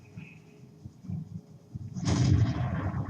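A tank's main gun fires in the World of Tanks game, one loud booming shot about two seconds in that rolls into a rumbling decay after a quiet stretch of low engine hum.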